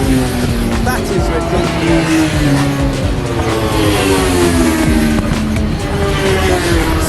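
Race cars and bikes speed around the Brands Hatch GP circuit, with several engines screaming and shifting pitch as they pass at a distance, loud and continuous, while people talk nearby.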